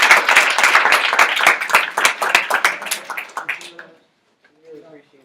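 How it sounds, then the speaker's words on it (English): An audience at a university student society meeting claps in a loud, dense round of applause that thins out and stops after about four seconds, followed by a brief spoken voice. "One more round of applause."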